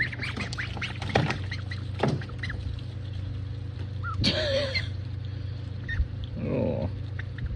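Ducks scuffle and wrestle, giving several short nasal quacks and squawks with rustling and scraping between them, close by over a steady low hum.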